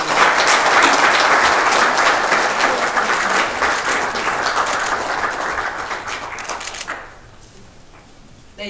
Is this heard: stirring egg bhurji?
no